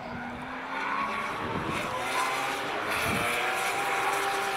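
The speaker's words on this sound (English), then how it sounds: "Certainly hear the sound of that motor looking like it was coming into the sweeper at one heck of a rate of knots" A drift car at Pukekohe Park Raceway roars into the sweeper at high speed, its engine note sustained and rising at a moderate distance, with a tyre-scrubbing wash and crowd-like background noise.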